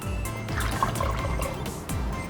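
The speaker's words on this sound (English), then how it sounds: "I like to top it off with a little bit of water as well." Water poured into a pressure cooker over beef stock, a steady liquid trickle and splash that runs close and fairly loud for a couple of seconds, no talking.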